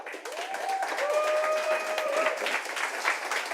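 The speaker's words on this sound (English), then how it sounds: "Big round of applause for Will" Audience applause at a regional barista championship heat, a dense, sustained wash of clapping with a few cheers and whistles rising over it.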